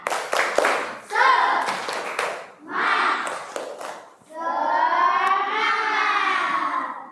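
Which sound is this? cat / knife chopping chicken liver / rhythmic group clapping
rhythmic group clapping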